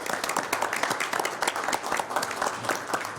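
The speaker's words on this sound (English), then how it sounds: "So I just want to give you a round of applause for all of these efforts." An audience claps steadily through a county Board of Supervisors meeting in a meeting room, a dense, even wash of many hands at moderate volume, with no talk over it.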